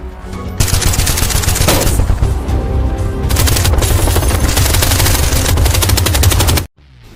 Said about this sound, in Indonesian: Mereka kemudian menghujani toko dengan peluru, memaksa Roy untuk tetap bersembunyi berlindung di balik meja.